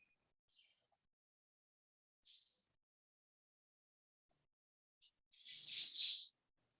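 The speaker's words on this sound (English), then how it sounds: "oh, that's a pretty bird in the background." A bird chirps in brief, faint calls scattered through an otherwise quiet indoor setting, ending with a louder burst of several quick tweets.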